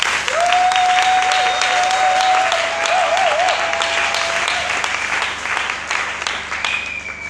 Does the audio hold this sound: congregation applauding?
yes